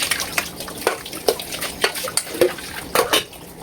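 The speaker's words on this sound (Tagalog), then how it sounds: "Niluluto ko pa ngayon inyong isda" Fish fries in a pan with a soft, steady sizzle, broken by repeated scraping stirs and sharp utensil clinks at irregular intervals, close by and without talk.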